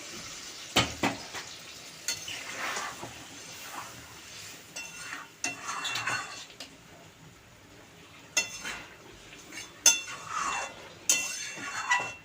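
Mutton and potato curry bubbling and sizzling in a pot as hot water goes in, with intermittent clinks and scrapes of a spoon against the metal, no talking.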